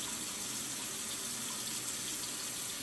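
Water runs steadily from a kitchen faucet, a constant soft rushing splash with no voices.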